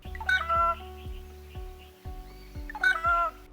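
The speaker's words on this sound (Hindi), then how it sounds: "तभी रोहन को चिड़ियों की आवाज़ सुनाई दी।" Two bursts of harsh, nasal rufous treepie calls ring out a few seconds apart over a soft, regular tapping rhythm in the background.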